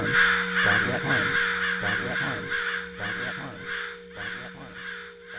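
A group of crows mobbing, loud harsh caws repeated in rapid overlapping bursts from several birds close by, a raucous continuous chorus.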